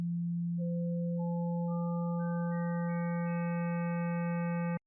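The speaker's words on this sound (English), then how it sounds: "the result is called a square wave" A synthesized tone swells steadily as odd harmonics are layered in one after another, turning a plain hum into a buzzy, hollow square wave that holds evenly for almost five seconds and then cuts off abruptly.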